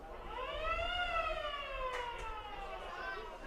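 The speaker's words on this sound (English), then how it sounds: "And there's the siren" An end-of-game siren wails at a rugby league match in a Country Rugby League rep game, rising and then falling in long tones over crowd noise, with a brief sharp sound near the end.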